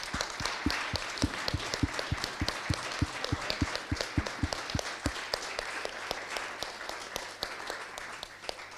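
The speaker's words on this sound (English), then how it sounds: "I would just like to ask them to stand up and for you to give them a round of applause" An audience applauds a team asked to stand at a talk on digital-age warfare, with sharp individual claps at first that thin into scattered, quieter clapping toward the end.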